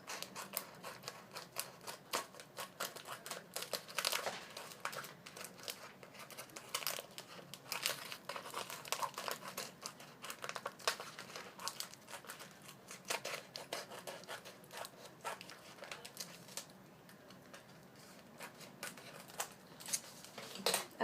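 Scissors snip steadily through a paper wig template, a quick run of close, crisp cuts with rustling and crinkling of the sheet between strokes.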